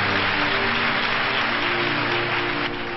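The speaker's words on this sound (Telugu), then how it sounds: "గట్టిగా చప్పట్లు కొడదాం" A congregation at a church gathering claps in a dense, continuous burst that stays even and fairly loud for the whole three seconds, with no voices.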